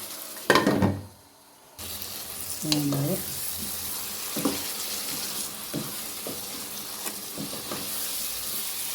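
Tamarind water and masala sizzle in a pan for a brinjal curry, a steady soft frying hiss throughout with a few brief louder splutters and stirring clinks near the start.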